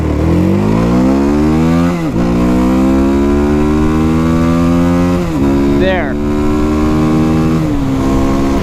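A Hyosung GD250R motorcycle accelerates hard, its engine climbing in pitch through several gears with brief dips at each shift, loud and close, over wind noise.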